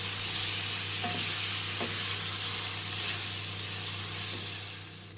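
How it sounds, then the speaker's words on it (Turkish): Tomatoes with their juice sauté in a pan with a dense, steady hiss of sizzling and a few soft stirring knocks, fading slightly at the end. "Biraz da domatesini kavuracağım"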